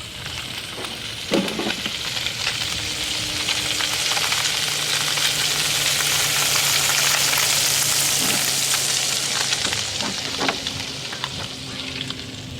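Fish fries in a pan with a steady, close sizzle throughout, broken by a few louder crackles and pops, with no voices over it.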